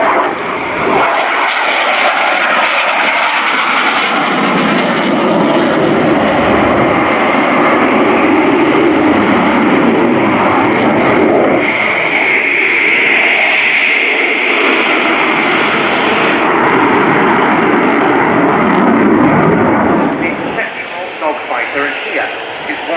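A MiG-29 Fulcrum jet fighter flying a display at an airshow, a loud continuous engine roar that swells and shifts as it passes, with a commentator talking throughout.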